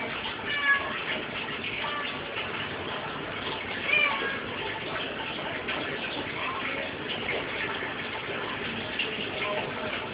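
A cat meows a few times during bath time, with short cries over a steady wash of running water and background noise.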